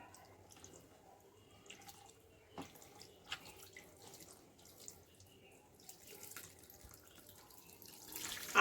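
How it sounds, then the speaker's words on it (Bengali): Water trickles and drips from a faucet or can onto plants in grow bags, faint and uneven with small splashes, a brief louder splash at the end. "এই যে মিঠাই জল দিচ্ছে, এরকম করে দিতে হয়, হাতটা উপরে রেখে দাও।"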